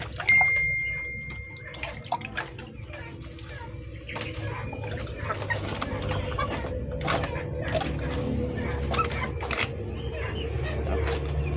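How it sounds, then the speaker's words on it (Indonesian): A free-range village chicken sick with snot being washed with water: splashing and pouring water with occasional clucks and rustling, against steady background noise. "kemudian kita basuh dengan air ya teman-teman ya, kita cuci bersih"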